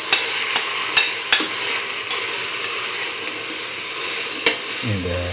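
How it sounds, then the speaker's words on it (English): Marinated chayote and cauliflower hit a hot pan with a loud steady sizzle, broken by a few sharp utensil clicks and a brief scraping stir near the end. "Put in the chayote and the cauliflower that we marinated,"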